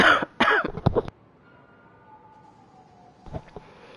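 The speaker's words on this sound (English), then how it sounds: "sorry, just a little cough there" A person coughs several times in quick, harsh bursts up close and loud, then goes quiet while a faint siren-like tone drifts in the background, with a few softer sounds following.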